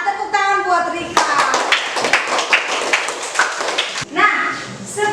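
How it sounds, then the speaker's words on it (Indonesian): Children in a fifth-grade Catholic religion class clap for a classmate named Rika, a burst of close, uneven hand claps framed by a teacher's voice speaking before and after. "Tepuk tangan buat Rika."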